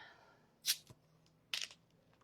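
Two quick crackling hisses, a short plastic crunch and snap, as the cap of a plastic Aquafina water bottle is twisted open close by in an otherwise quiet room.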